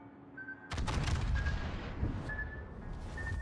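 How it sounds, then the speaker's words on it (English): A battleship fires a heavy main-gun salvo in World of Warships, opening with a sudden loud roaring blast that rumbles on for seconds amid continuous explosive noise and a faint repeating tone. "Maybe one more salvo before I die."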